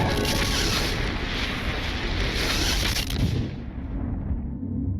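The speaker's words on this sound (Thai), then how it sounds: "การระเบิดรังสีแกมมา เป็นเหตุการณ์ที่ทรงพลังที่สุด" A deep, rumbling explosion sound effect for a gamma-ray burst in a space documentary, a sustained roaring boom that cuts off abruptly near the end.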